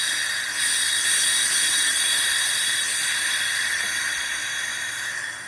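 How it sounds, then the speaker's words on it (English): A homemade silent air compressor built from an old refrigerator compressor runs, a loud, steady high hiss of escaping air from the relief valve that holds close and even, then fades slightly at the end. "the relief valve makes more noise than the compressor does"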